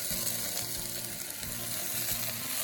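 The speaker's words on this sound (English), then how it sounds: "Once the garlic becomes lightly golden and fragrant, add all of the shrimp heads to the pot." Shrimp heads hitting hot garlic in a pot, a steady loud sizzle with faint scraping and clinking as the contents settle.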